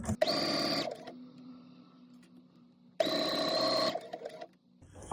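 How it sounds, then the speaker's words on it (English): A sewing machine runs a lightning bolt stitch in two bursts of rapid, whirring stitching on fabric, each about a second long, separated by a quiet pause with a low hum. "I'm just gonna sew that down using a lightning bolt stitch"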